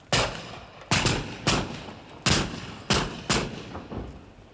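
Musket volleys crack out in a film battle scene, six or seven sharp heavy shots at uneven intervals, each booming and trailing off with echo, loud and close without speech.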